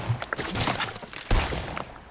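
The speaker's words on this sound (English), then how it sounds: "they're shooting stuff down" Rapid gunfire bursts from a Fortnite OG trios match, several sharp volleys close together with a heavier shot near the middle over a busy game background.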